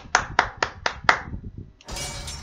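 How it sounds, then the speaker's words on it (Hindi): Five sharp, evenly spaced hand claps ring out close and clear, followed by a louder wash of broadband game noise. "तालियां सबके लिए, तालियां, सब तालियां बजाओ।"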